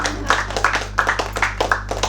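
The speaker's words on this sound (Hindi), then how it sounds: "अरे उठो सब ताली बजाओ" Audience members at a Hindi poetry recital clap in a quick, loose rhythm, the sharp claps close and regular over a low background hum.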